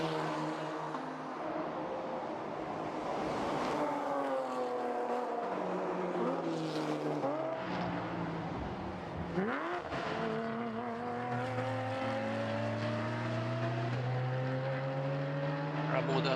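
A Porsche Cayman and other touring race cars lapping a circuit during a Baltic Touring Car Championship race, engines rising and falling in pitch as they pass and shift gears, loud and continuous under a commentator talking.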